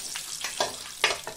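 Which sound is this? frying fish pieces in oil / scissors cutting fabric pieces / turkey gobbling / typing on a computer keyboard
frying fish pieces in oil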